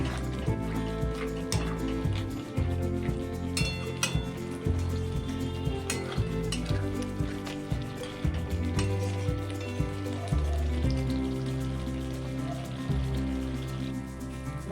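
Egg curry sizzling and frying in oil in a pan while being stirred, a steady crackling sizzle running throughout under a dense layer of background music.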